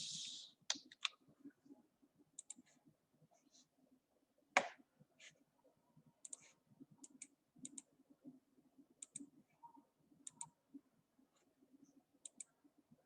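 Computer mouse clicking during CAD drafting work, scattered sharp faint clicks at irregular intervals over about thirteen seconds, with a soft low murmur underneath and no talking.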